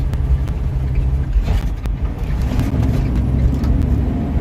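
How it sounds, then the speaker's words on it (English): A vehicle engine labouring on a hill while the driver prepares to downshift, a loud, steady low rumble filling the whole clip with slight swells in pitch. "I'm about to have to downshift."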